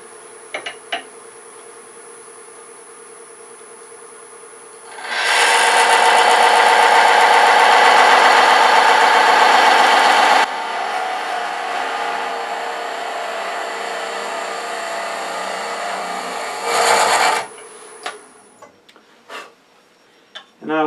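A power carving wheel cuts husk texture into a wooden acorn box, giving a loud, steady whirring grind for about five seconds. It drops to a quieter hum, then comes one short burst of grinding near the end.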